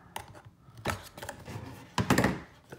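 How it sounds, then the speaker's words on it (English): A pocket knife slicing the tape on a cardboard box holding a WD My Passport SSD, with a few short scraping cuts and soft thunks, close and fairly quiet. "It is taped shut, so I get to use my cool knife and open it up."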